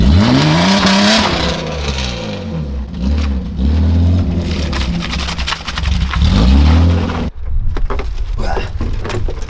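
A budget BMW drift car's engine revs hard with rising and falling pitch sweeps, tires squealing and skidding close by, ending in a sudden drop to rumbling noise.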